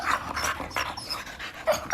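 A dog pants in quick, rhythmic breaths, close and fairly soft, heard on its own without anyone talking.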